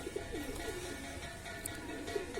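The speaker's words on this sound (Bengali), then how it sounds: "অনেক কষ্ট করে কবুতরটা লেগেছে" A pigeon coos softly near a bird trap outdoors, a few short low rolling calls over steady background hiss and faint ambient noise.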